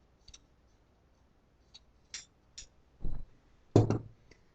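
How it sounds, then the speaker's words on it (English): Tailor's scissors snip a rough sleeve hole in fabric, a scattered series of light clicks and short cuts that ends in two louder, heavier snips, heard up close in a quiet room with no voices. "you have to cut out the sleeve for this. I just make a rough sleeve hole."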